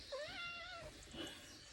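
A house cat lets out one drawn-out meow that rises and then falls, with a softer second call after it, heard quietly beside a kitchen where a pumpkin pie is being baked.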